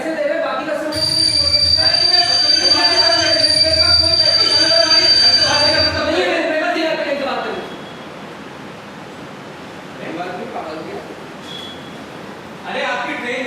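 Train at a railway station, metal wheels squealing loudly with a sustained high screech over rumbling carriages for about seven seconds, then fading to quieter platform ambience; voices talk in the background.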